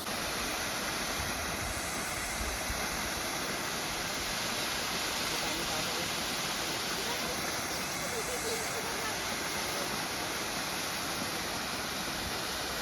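Water rushes at Dainthlen Falls in Cherrapunji, Meghalaya, as a dense, constant roar filling the whole stretch with no break in intensity.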